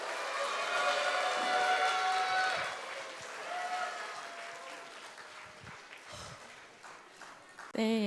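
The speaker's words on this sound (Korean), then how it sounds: "박수해 주세요." A church congregation applauds for a Sunday school preacher, loud at first and then slowly fading over several seconds into scattered claps, with a brief noise burst at the end.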